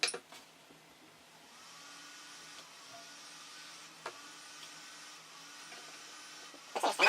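A Prusa i3 MK2S 3D printer runs its self-test with a small fan spinning, a faint, steady whir under the room tone, bracketed by brief clicks and handling knocks at the start and end.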